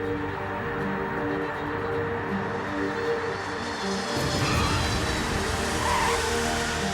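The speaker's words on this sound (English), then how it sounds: "It's time for the Antonov's brakes to do their job." An Antonov 124 cargo plane lands and brakes hard on a runway, a loud, continuous roar of engines and rushing air that swells further after touchdown.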